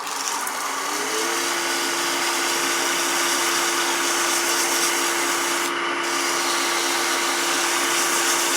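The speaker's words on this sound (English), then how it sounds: "When I'm sanding this aluminum" Sanding an aluminum pen blank spinning on a wood lathe gives a steady, close abrasive hiss with a constant motor hum beneath, running unbroken and fairly loud throughout with no talking.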